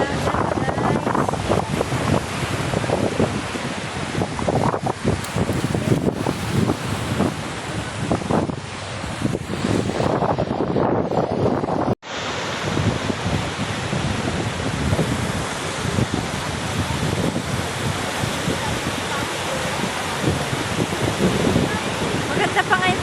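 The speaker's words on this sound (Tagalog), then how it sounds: "Ang dagat, guys." Sea waves washing ashore at Boracay beach under steady wind buffeting the microphone, a continuous broadband roar that dips briefly midway, with a voice talking over it at times.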